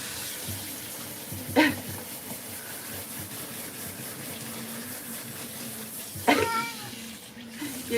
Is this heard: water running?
yes